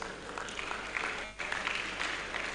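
Audience applause at a conference session honouring paper presenters, panelists and the chairman: a dense, steady wash of clapping throughout, dipping briefly midway before resuming.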